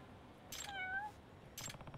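Two cat meows in the video game Judgment, the first long and rising-falling, the second shorter, heard alone against a quiet background.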